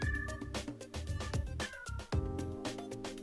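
A cartoonish cat meow from the visual novel Dandelion – Wishes Brought to You, mixed into busy background music with sustained melodic tones throughout.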